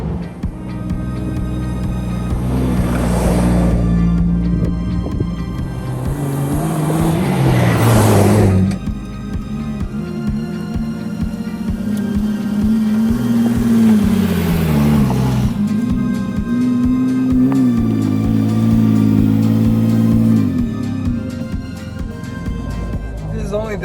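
A Jeep on a local off-road trail produces a loud engine drone that rises and falls with revving, heard close up and continuous, with someone talking over it.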